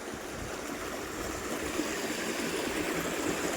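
Water pumped by a motor flows steadily into irrigation channels on a farm, a continuous rushing, splashing stream heard close and alone with no talk.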